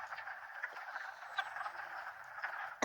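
A chorus of frogs croaks steadily from a pond on a spring day, many calls blending into a continuous trilling drone, ending with a sudden handling bump.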